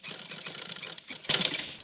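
A sewing machine runs steadily while stitching a collar band with boot piping, giving a close, continuous whirring stitch with a brief pause before a slightly louder burst.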